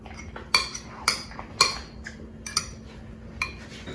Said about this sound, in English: I'm just gonna mash these until they are finished